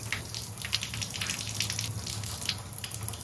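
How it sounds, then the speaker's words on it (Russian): Water running steadily from a thermostatic bath mixer tap, a soft continuous gushing hiss, faint and even, with no one talking. "Включим напор воды и проверим"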